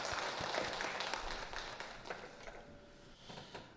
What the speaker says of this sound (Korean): 하나님 큰 영광의 박수 올립니다.